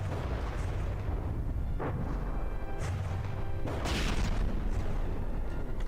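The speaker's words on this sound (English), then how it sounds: "More bombs popping in here." Bombs go off in the naval combat game From the Depths. A dull, continuous rumble runs throughout, with several sharp blast transients scattered across it, and no voices.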